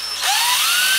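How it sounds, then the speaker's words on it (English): Power drill with a 1/8 inch bit boring a small pilot hole in a wooden frame spline jig: a high whine spins up after a brief pause and holds loud and steady, pitch slowly rising. "with a 1/8 inch bit. Just going to get a little pilot hole in there."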